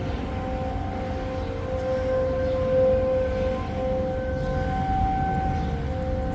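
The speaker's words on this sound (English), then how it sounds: "Probably Sirens?" Tornado warning siren sounding across the Chicagoland area, a loud sustained wailing tone that swells and holds steadily without pause, with no voices.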